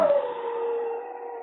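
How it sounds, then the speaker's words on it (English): A big white Siberian husky howls in one long, sustained, wavering tone, fairly close and alone with no talk. "he was wakened by a dog howling"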